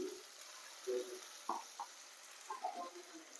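Ground masala paste sizzling softly in a pan while being stirred, for a duck curry gravy, with faint scraping strokes and low crackle at a quiet level, no talking.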